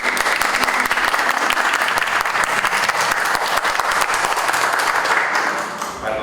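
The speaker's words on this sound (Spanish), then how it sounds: "Podemos irlos recibiendo con un fuerte aplauso." An audience at a book presentation applauds to welcome the authors, with dense, loud, sustained clapping throughout that fades slightly at the end.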